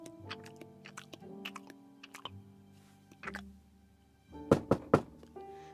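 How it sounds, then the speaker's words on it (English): Beeman's chewing gum is chomped hard and long, making close, moist, rhythmic chewing and biting sounds. The chomps grow louder toward the end, with a soft tonal hum sustained underneath. "I chomped long and hard."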